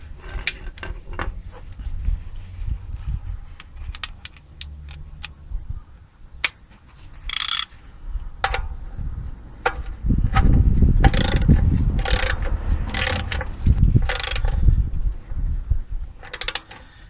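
A ratchet tightens a small 14mm oil drain nut with a copper washer on a Nissan Note 1.6 petrol CVT. Close, crisp clicking comes in several bursts over a low rumble of handling noise.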